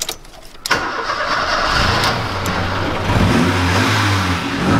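An old car's 1.3 overhead valve engine, freshly fitted with a cleaned carb, battery and repaired exhaust, cranks briefly then catches and runs steadily close by, with a slightly uneven chugging idle and a few light revs.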